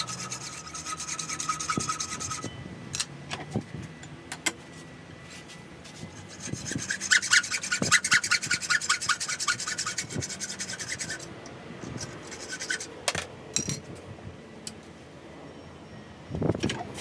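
A hacksaw cuts through metal at close range in steady back-and-forth rasping strokes, pausing briefly now and then with a few knocks and clanks, while a swage block for an anvil is made with basic hand tools.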